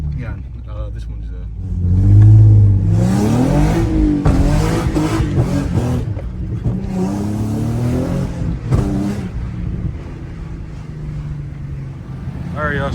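A flame-tuned Nissan 370Z fitted with resonated test pipes revs at a gas station, with loud rising and falling exhaust bursts mixed with voices and wind buffeting.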